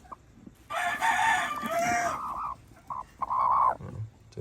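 Kanawayon chickens crow and cluck up close, a loud drawn-out crow followed by shorter clucking calls in irregular bursts.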